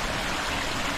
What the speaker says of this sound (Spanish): Pequeño río